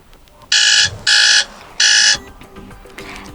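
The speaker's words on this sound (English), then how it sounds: "just click on one of those sounds, like for example puzzle alarm" Puzzle alarm ringtone on a FreeYond M6 phone plays three bright electronic chime bursts in a row, loud and clear, with a faint softer tone trailing after.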